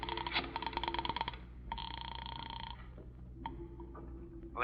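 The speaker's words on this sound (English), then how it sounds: "Just a little phone call." Telephone sounds in a radio drama as a call is placed: bursts of ringing or dialing tones and clicks, fairly loud, running in separate segments with a quieter hum between them and no speech.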